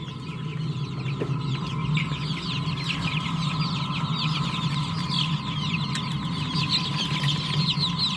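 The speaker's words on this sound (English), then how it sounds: "So I think we got plenty of meat chickens" Meat chicks in a brooder cluck and peep continuously in a dense, overlapping chorus over a low steady hum, with no talking.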